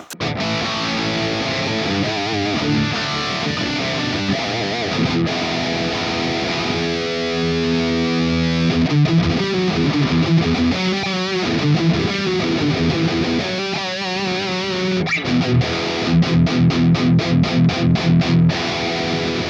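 A high-gain distorted electric guitar through a Mesa Boogie Mark IIC+ amp plugin plays tight, saturated riffs and sustained chords, ending in a run of rapid chugging palm-muted hits, with no talking.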